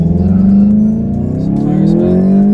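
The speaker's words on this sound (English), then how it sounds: "I'm going to give you guys a little bit of a launch here" A 2019 VW GTI Autobahn's turbocharged engine launches hard, its loud, close engine note climbing steadily in pitch as the car accelerates, with a slight dip midway before rising again.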